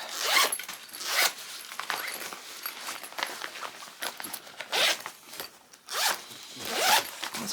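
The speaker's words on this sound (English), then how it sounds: "let's put them in yet another compressible bag." Travel items being packed into a compressible bag, with long zipper pulls, rustling fabric and shuffling handling at close range, in bursts over several seconds with no speech.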